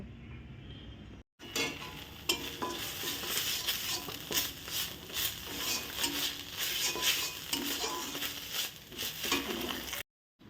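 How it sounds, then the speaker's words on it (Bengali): Spice paste with crushed garlic fries and is stirred in oil for a vegetarian fig curry, a steady close sizzle broken by scraping stirs after a brief silent pause at the start. "আর তেলের উপরে মশলাগুলো আমি ভালো করে কষিয়ে নিলাম"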